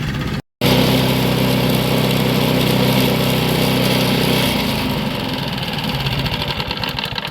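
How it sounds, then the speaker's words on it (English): A lawn mower engine idles steadily and loudly at the start of the lawn care season, with a brief cutout near the start and a slight shift in tone partway through. No one speaks. "this is one reason why you should always start the mower up before you use it"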